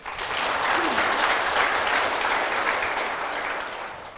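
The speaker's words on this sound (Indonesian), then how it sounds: "Kita berikan aplaus dulu untuk narasumber kita." An indoor audience applauds guests at a health talk show in Lombok with a full, steady wash of clapping that swells and then gently tapers off, with no speech.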